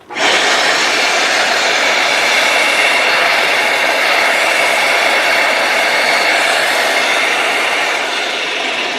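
Hoover Powerscrub XL pet carpet cleaner switched on with its vacuum running, a loud, steady, airy whoosh that starts abruptly and holds without a break.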